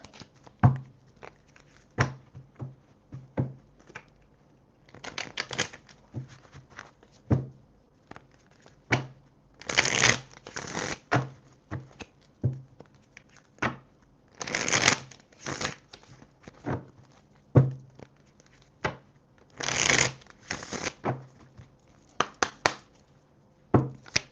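Oracle cards are shuffled by hand in repeated bursts, with crisp riffling and flicking that rise and fall in rhythmic clusters, close and fairly quiet, with no talking.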